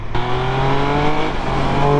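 Triumph Speed Triple 1200 RS motorcycle accelerating hard in sport mode, its engine a loud, close, buzzing tone that holds steady with a brief shift partway through, with no talk over it.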